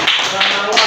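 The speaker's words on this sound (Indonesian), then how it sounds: "Tepuk tangan tuh Aisyah" A classroom of pupils claps for a classmate after her answer, three loud rhythmic group claps close by, with a voice audible underneath.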